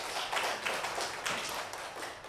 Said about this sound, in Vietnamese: cả lớp nổ một tràng pháo tay để chúc mừng bạn nào